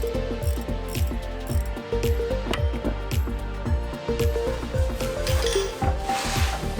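A ratchet wrench loosens the upper coilover bolt on a Dodge Durango, making a loud, close, steady clicking and ratcheting rhythm with repeated strokes throughout.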